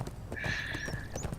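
Horse in the ArcheAge online game, a short clip-clop of hooves with a drawn-out whinny-like tone over low game ambience, heard alone with no talk.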